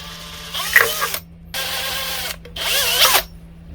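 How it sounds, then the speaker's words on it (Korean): A power drill bores a hole through the back of a bottle in three loud whirring bursts separated by short silences, with no talking. "이제 이 병을 한번 가공해 볼게요. 뒤쪽을 뚫어 볼게요."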